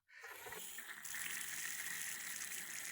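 Water comes on abruptly and runs in a steady hissing gush, growing a little stronger after a second, close by and without voices.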